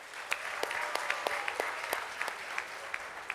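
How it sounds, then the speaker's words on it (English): Applause for volunteers at a design, technology and social innovation workshop: a steady indoor patter of clapping from a modest crowd, with sharper individual claps standing out near the microphone throughout. "please give them a round of applause for them."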